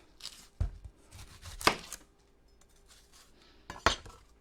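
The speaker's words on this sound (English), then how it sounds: "Chop this onion up real fast." A knife chops an onion on a cutting board in a home kitchen, with three or four distinct knocks spaced apart amid quiet rustling.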